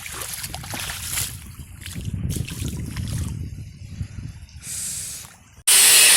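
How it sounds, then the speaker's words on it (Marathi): Muddy feet are washed outdoors with close, irregular splashing and sloshing water, followed by a brief burst of pouring or spraying water at the end. "आता जरा इथे पाय वगैरे धुतो आधी ते पण चिखलाने"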